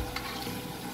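Potato fries in hot oil in a disco pan, giving a steady, close hiss and bubbling sizzle with no voices.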